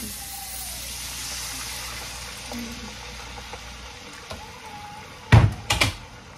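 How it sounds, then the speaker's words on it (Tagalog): Water splashes and gushes into a cooking pan of pancit in two short bursts near the end, after a stretch of low steady background hiss. "lagyan na natin ang tubig"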